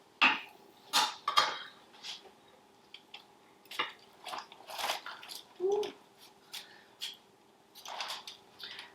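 Knife and fork cutting into a juicy cooked Thanksgiving turkey with stuffing, giving scattered scrapes, clinks of cutlery and soft wet tearing sounds in short irregular bursts, close by and moderately loud.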